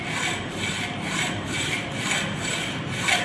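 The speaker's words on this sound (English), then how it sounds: "Notice that I'm using the entire blade as I'm sawing through." A hand saw cuts through a workpiece in long, even back-and-forth strokes, a rhythmic rasping about every half second, close and steady with no voices.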